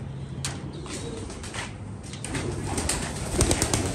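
Pigeons kept indoors in a room, with soft low cooing running under faint rustling and knocks, a close indoor sound with no talk.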